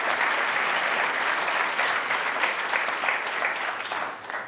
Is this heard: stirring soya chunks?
no